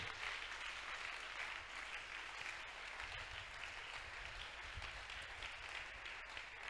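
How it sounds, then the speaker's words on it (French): A church congregation applauds for the Lord in sustained, dense clapping that stays even and continuous, heard at a modest distance with a soft murmur underneath. "On acclame pour le Seigneur."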